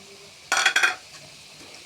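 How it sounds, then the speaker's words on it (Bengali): Ginger paste and ingredients being stirred in a cooking pan, a close scraping, sizzling burst lasting about half a second, then quiet with a faint clink, and another stir starting at the end. "নাড়াচাড়া করতে থাকবো, মিক্স করতে থাকবো।"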